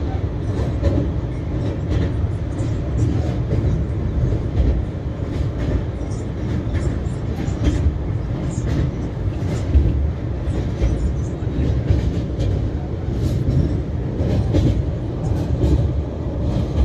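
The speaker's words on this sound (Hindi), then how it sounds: "अभी हमारी ट्रेन पहुंच रही है मुरैना रेलवे स्टेशन जो कि मध्य प्रदेश में मौजूद है" Chhattisgarh Express passenger train running through Madhya Pradesh toward Morena station, a steady loud rumble of wheels and carriage noise with faint rhythmic clacking, continuous throughout with no clear talk.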